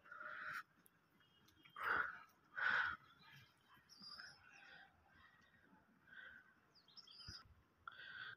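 Pigeons and pigeon chicks calling in hot weather, a few short chirps and coos, two louder bursts early on and fainter calls afterward, moderately distant against a quiet background.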